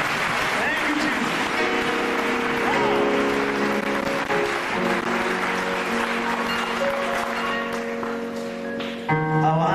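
A church congregation claps hands in praise, a steady broadband patter of clapping blended with sustained organ-like music and voices throughout.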